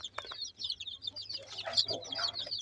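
Ten young chicken chicks in a small pen cheep in a rapid flurry of high peeps, close and fairly loud, with brief clucking sounds mixed in.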